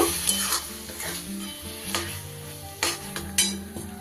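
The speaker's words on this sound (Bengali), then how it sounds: "এইবার আমি মশলাটা দিয়ে দিলাম, পোস্ত আর কাঁচা লঙ্কা বাটাটা। ভালো করে মিশিয়ে দেব।" A spoon stirs poppy seed and green chili paste into a sizzling turnip and small-fish curry in a pan, with steady frying hiss and a few scraping clinks against the pot.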